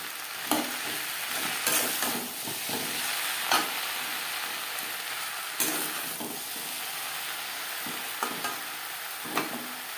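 Okra (bhindi) stir-frying in a pan for a vegetarian curry: a constant sizzling hiss with regular spatula scrapes and knocks every second or two, close and fairly loud, no voices.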